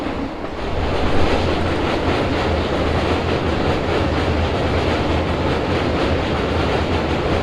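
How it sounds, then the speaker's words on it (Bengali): A DEMU train runs from Siliguri toward New Bongaigaon near the India-Bangladesh border, its steady, loud rumble and rolling wheel noise holding throughout as it passes close by. "হ্যাঁ, হ্যাঁ ট্রেন যাচ্ছে ট্রেন"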